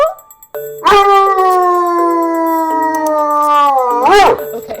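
A dog howls loudly and close by in one long, sustained, wavering tone lasting about three seconds and rising sharply at the end, with no talking.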